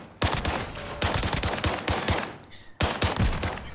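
Bursts of automatic gunfire from the Warzone video game, several loud sharp volleys in quick succession with brief pauses between them.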